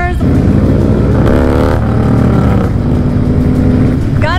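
A Harley-Davidson Dyna Low Rider with a 2-into-1 baffled exhaust, its engine running steady and deep at close range, revving up once before settling back, with voices talking over it.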